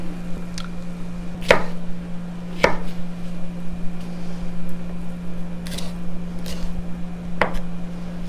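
A knife cuts peppers into long, noodle-like strips for chili, giving a handful of sharp, separate chopping taps spaced a second or more apart over a steady background hum.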